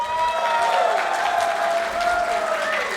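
An audience at a school annual day applauds steadily for about three seconds, a dense wash of clapping with crowd noise and some tonal, voice-like sounds mixed in.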